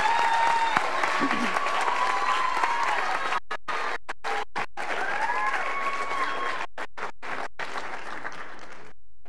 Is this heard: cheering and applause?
yes